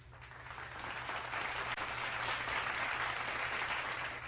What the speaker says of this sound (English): Give them the applause.